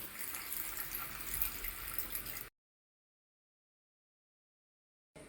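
Water pours in a steady splashing stream for about two seconds, then stops abruptly into silence.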